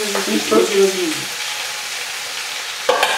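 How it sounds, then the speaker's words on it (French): Mushrooms and lardons sauté in a pan for a cider pork roast, giving a soft, continuous sizzle; a brief voice-like sound comes near the start, and a sharper burst of frying noise rises near the end. "Donc on fait revenir les champignons et les lardons"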